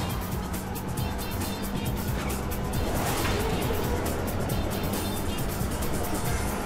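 Old cars on a racetrack in the video game Sonic All-Stars Racing Transformed, a continuous loud engine roar with a swell of passing vehicles midway, no talk.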